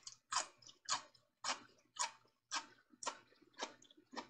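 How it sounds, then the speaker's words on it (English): Crunchy bites of open-kettle canned pickled asparagus, chewed close to the mic in about eight evenly spaced crisp crunches with quiet pauses between them. "Listen to this crunch."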